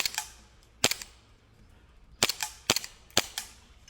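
An airsoft pistol fires about five sharp, snappy cracks at targets, one early, one isolated, then three in quicker succession, close and loud with no talking.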